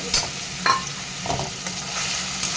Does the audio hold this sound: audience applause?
no